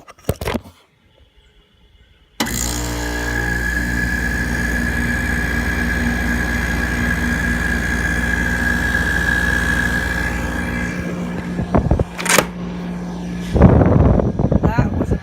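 A Hampton Bay 12000 BTU window air conditioner starting up badly, a sudden loud steady motor hum with a high whine that runs for about ten seconds before faltering and clattering, a voice speaking near the end.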